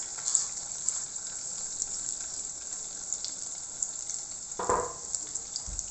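Red onions frying in a pan, a steady, close hiss of sizzling with a brief louder burst of stirring near the end.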